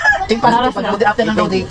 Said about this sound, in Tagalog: Dami din nilang manok dito.